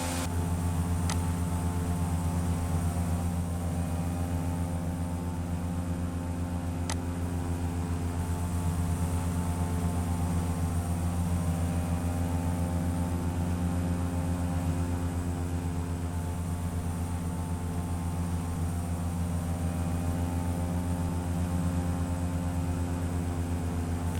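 Steady droning propeller aircraft engine from the flight simulator game FSX, a constant even hum with no change in pitch, running alone throughout.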